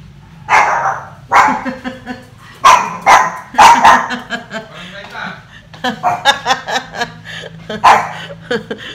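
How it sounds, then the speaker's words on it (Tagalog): A dog barks in short, close bursts, several in a row then scattered, mixed with a person's chuckles and talk. "Huwag kang tumahol."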